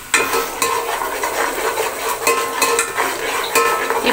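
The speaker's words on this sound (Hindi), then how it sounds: "अब ये ऑयल हमारा गर्म हो गया है तो हमने क्या करना है ये मसाला सारा इसमें डाल देंगे" Spice masala goes into hot oil and fries for a rajma and chola feast, a loud close sizzle with rapid spoon scrapes and metal clinks against the pot, no talking.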